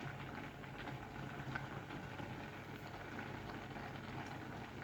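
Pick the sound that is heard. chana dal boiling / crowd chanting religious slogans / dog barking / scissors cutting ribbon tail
chana dal boiling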